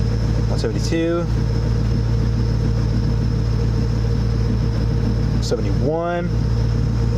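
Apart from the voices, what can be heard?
Terminator Cobra engine idling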